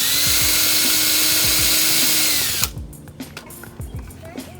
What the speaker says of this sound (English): Drilling a hole for the screws.